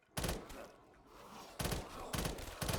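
Three-round burst rifle fire in Call of Duty: Modern Warfare (2019), Gun Game mode on the Nacht der Untoten map; loud, close bursts of rapid shots with a quieter gap between them.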